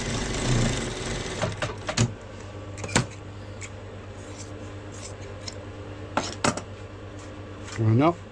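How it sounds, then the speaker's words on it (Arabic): A sewing machine stitches a seam on a pair of trousers, with a low running hum broken by sharp clicks and clacks of fabric handling, and a short vocal sound near the end. "كندوز خياطة هنا"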